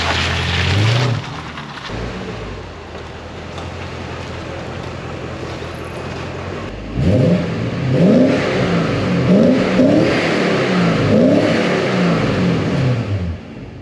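A Porsche 928 S4 with a V8 engine drives in pouring rain, its engine revving and accelerating through several rising surges over steady rain and road spray hiss.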